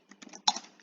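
A few quick taps on a computer keyboard while HTML code is typed into a text editor, ending in one sharper, louder keystroke, close and clear with nothing else around.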